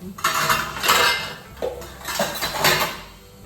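Metal pot lid placed and shifted on a cooking pot during home lunch preparation, giving a few close clanks and scrapes of cookware in bursts, with no talk.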